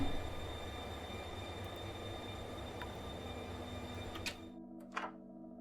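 A video game train rolls along with a steady, broadband mechanical rumble that cuts out abruptly near the end, followed by a couple of sharp clicks and near silence.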